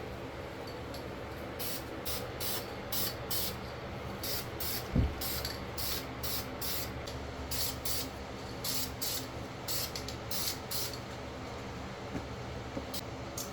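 A white spray paint can hisses in regular short bursts while coating a Fiat Abarth downpipe, the bursts repeating steadily over a low background hum, with one dull knock partway through.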